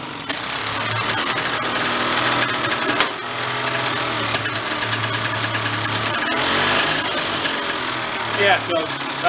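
An old VéloSolex moped, left unrun for 46 years, idles with a close, busy rattling and buzzing putter that rises and falls a little, with mechanical clatter on top.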